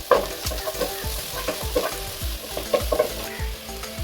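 Onions sautéing with salt in a hot pan make a steady sizzle, broken by rhythmic scraping strokes of a spoon stirring about twice a second, close and clear with no voices.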